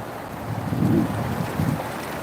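River water runs past the stone-block crossing of Jincheon Nongdari bridge in a continuous low rush, mixed with wind buffeting the microphone and a few louder surges.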